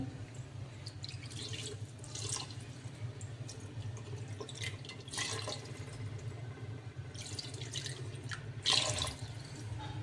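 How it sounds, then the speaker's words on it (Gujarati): Water poured into a pot of green pigeon pea (tuvar) curry: a close, steady splashing trickle with brief louder spills near the end, with no voices. "હવે એમાં આપણે પાણી એડ કરી દઈશું."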